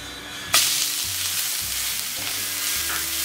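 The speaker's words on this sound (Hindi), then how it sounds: "जो कैरेट व गाजर को ग्रेट करके रखा था कलर चेंज होने तक अच्छी तरह से फ्राई कर लूँगी।" Grated carrot dropped into hot ghee and fried, a sharp burst of sizzle at the start that settles into a steady close frying hiss with occasional stirring scrapes, no voices.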